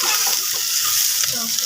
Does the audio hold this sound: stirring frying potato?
yes